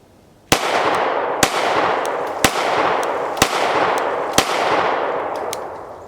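A Glock G19 Gen 6 pistol fires five sharp, loud shots at a steady pace roughly one second apart, each crack followed by a ringing outdoor decay.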